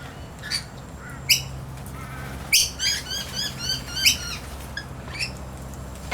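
Lorikeets in a garden give sharp squawks and chattering calls, mixed with bursts of wing flapping, several birds close by over a soft outdoor background.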